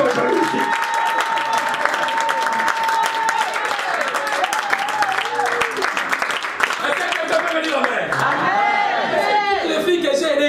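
A church congregation applauds and cheers throughout, a steady dense clapping bed mixed with crowd voices and a sustained tone, loud and continuous with no break.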